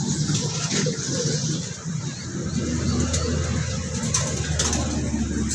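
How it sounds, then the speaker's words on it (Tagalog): Pigeons cooing softly inside a breeding loft over a steady low background hum, with faint rustling and occasional flutter. "Mga kalapati natin di pa umakain."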